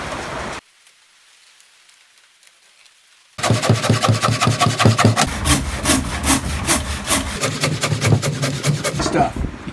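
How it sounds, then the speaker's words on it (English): A new jigsaw cuts through an old heart pine 4x8 board, starting after a short quiet gap with a loud, close, rapid rasping chatter that runs steadily to the end. "I'm going to cut it out with this brand new jigsaw"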